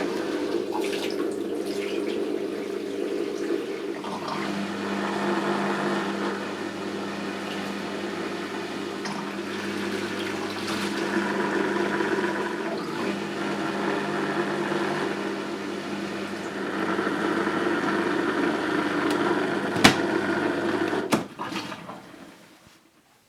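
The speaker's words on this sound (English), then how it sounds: "you need to turn the wash selector to drain" Water drains steadily from a twin tub washing machine through its hose in a continuous rushing, gurgling flow with a faint motor hum. It runs unbroken for about twenty seconds before tapering off.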